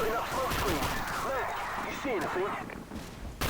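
A minigun in Call of Duty 4 fires as a continuous rattling roar of rapid gunfire, held under someone talking throughout, with a brief drop near the end before it resumes.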